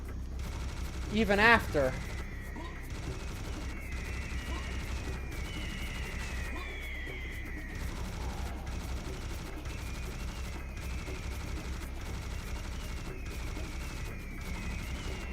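Enemy gunfire crackles in a video game, a loud burst of shots early on, then continuous battle noise and whistling effects beneath a player talking.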